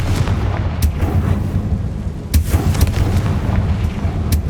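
Confringo blasting spell explosions from the Hogwarts Legacy video game: several loud booming blasts over a dense rumbling background, with sharp bursts roughly every second or so.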